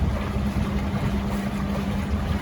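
A houseboat passes on the Murray River, its steady engine drone and rushing water filling the scene with a constant low rumble, close and fairly loud throughout.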